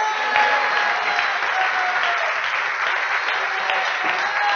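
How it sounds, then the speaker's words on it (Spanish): A congregation at a regional church gathering in Caracas breaks into steady, dense applause that fills the room evenly, with faint tonal sounds and a hint of voices beneath the clapping. "Aplaudan entonces."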